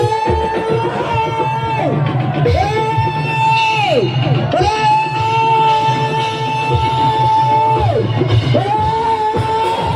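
A church congregation at a Wednesday night prayer meeting shouts loudly together, a dense crowd of sustained voices rising and falling in long repeated swells over a low rumble.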